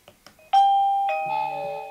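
A few light taps, then the doorbell of a GLANSHIELD wireless security camera doorbell chimes loudly in two clear descending tones that ring out and slowly fade.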